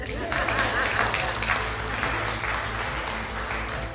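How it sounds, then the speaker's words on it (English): An audience claps during a motivational talk, a dense burst of applause starting sharply and holding steady over a low background hum, with a voice faintly underneath. "You guys can clap for that."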